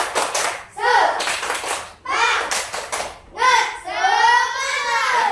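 Schoolchildren in a classroom doing a tepuk semangat chant, bursts of quick rhythmic group claps alternating with their shouted, sung chanting, several repeated clap patterns close and lively.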